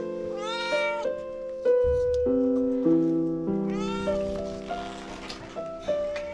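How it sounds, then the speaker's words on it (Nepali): A cat meows repeatedly in a loud, close series of drawn-out, rising cries at an old age home in Kathmandu, Nepal, where the cat has just had kittens; no one talks. "आश्रममा बिरालो पाल्नु भएको छ क्या"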